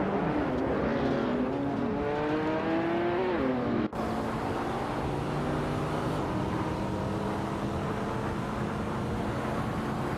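Race cars including a 2015 McLaren 675 LT lap a circuit, a loud steady engine drone with rising and falling pitch that briefly cuts out before resuming just as strongly.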